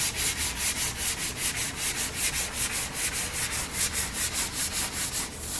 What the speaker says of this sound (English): We're using our sanding block here